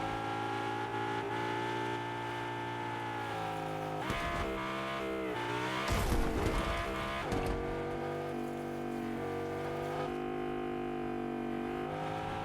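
A car drives steadily in the Fortnite video game, its engine droning with shifting revs and a loud rev burst midway, no voices present.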